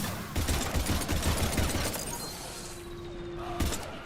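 Gunfire in the video game Mass Effect 3 on Insanity difficulty, with rapid bursts of shots at moderate distance in the middle of busy combat noise, a brief tonal whine near the end.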